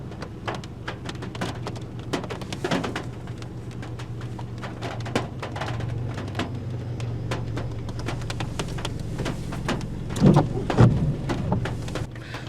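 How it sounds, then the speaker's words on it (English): Rain falls steadily through a stormy night at an outdoor crossroads location, with frequent sharp drip and patter transients over a low continuous rumble and a slightly stronger burst near the end. "It's a dark and stormy night."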